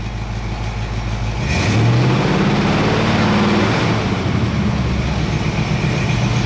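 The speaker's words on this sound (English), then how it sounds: "Let me see what happens when I rev it a little bit." A small block Chevy V8 idles at about 700 rpm, then revs up and holds at a higher, steady drone, loud and close with no talking.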